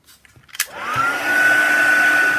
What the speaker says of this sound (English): And I'm going to heat set that too